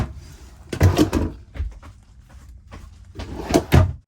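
A wooden closet door in a travel trailer opens with a couple of knocks and rattles, then goes quiet before another clatter as it swings shut, close and fairly loud.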